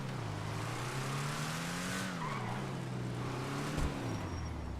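Lampadati Viseris sports car engine in Grand Theft Auto, a steady droning motor with wavering pitch and tire noise, continuous and moderately loud with no talk.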